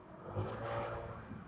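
A Honda PCX160 scooter engine revs under the throttle in a steady, close, whirring drone with a slight surge near the start, brief and with no talking.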